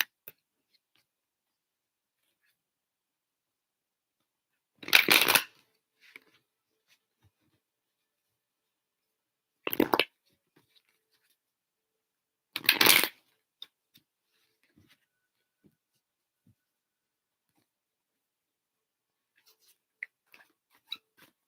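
Tarot cards being shuffled during a live general reading: three short, crisp bursts of card noise, spaced a few seconds apart, with near silence between them.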